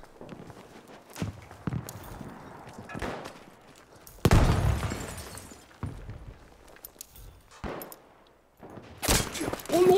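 Gunfire in Battlefield V, heard as scattered sharp cracks and bursts, some near and loud, others fainter, separated by quieter gaps of movement and rustling.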